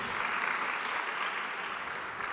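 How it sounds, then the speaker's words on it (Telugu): A church congregation claps in praise, a dense, steady round of applause from a crowd heard at a moderate distance and without talk. "మరొకసారి చప్పట్లు కొట్టి దేవుని స్తుతిద్దాం."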